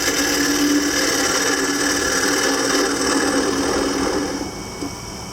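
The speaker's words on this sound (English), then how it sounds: "using a wood lathe" A wood lathe spins a wooden piece for a small travel-size drink and smoke tray, a loud, steady whirring hum with scraping from the freehand tool, easing slightly near the end.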